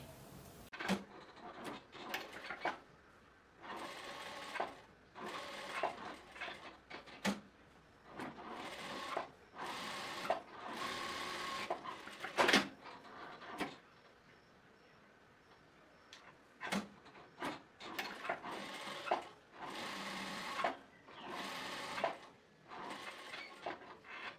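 A straight-stitch sewing machine sewing a trouser seam, running in short bursts of rapid mechanical chatter split by brief pauses, steady and close throughout, with no talking.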